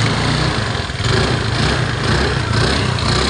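A second-hand 2019 Grazia model motorcycle with 16,000 km on it idles at a steady, even rumble, close and continuous with no talking over it.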